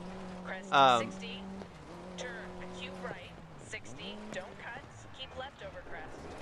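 A historic rally car's engine drones and shifts pitch as it turns hard in the racing game DiRT 4, fairly quiet beneath steady spoken commentary.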